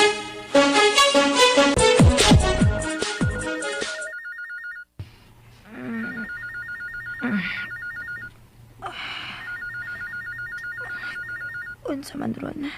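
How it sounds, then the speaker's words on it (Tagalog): A hotel telephone rings in repeated electronic bursts, following a loud musical passage and set under a steady low hum, with a voice gasping and speaking between the rings. "Telepono ron. Uy, ang telepono man din ning hotel."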